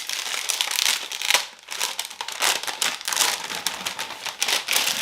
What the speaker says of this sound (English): let's take off the fretboard paper